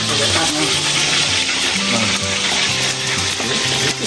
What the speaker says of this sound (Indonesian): Sekarang ikan dan udangnya langsung aku goreng.